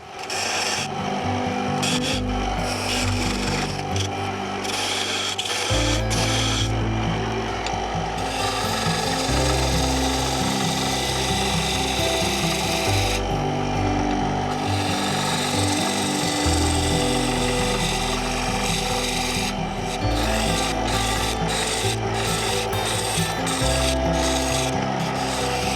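A wood lathe turns an antique cherry pepper mill blank, its tool cutting with a loud, continuous rasping scrape that shifts in pitch and intensity as passes begin and end, with no speech over it.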